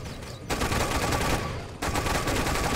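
Dense, sustained anti-aircraft gunfire from the video game Toy Soldiers, a continuous rattling barrage that fills the scene, briefly thinning around half a second in and again near the two-second mark before resuming at full loudness.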